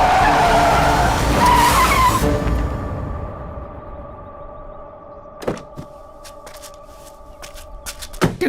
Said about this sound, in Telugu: ఎదురు కారు వస్తుందమ్మా